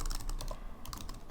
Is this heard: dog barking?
no